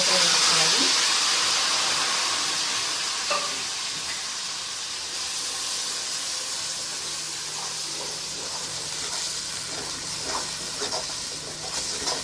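Gongura paste hits hot oil with a loud, steady hiss that gradually settles into a softer, continuous sizzle, close up with faint clinks throughout.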